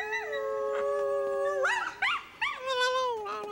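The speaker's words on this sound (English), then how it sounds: "Then, she sang like a coyote." A coyote howl rises and holds, then breaks into wavering yips and warbling cries, loud and close with no talking.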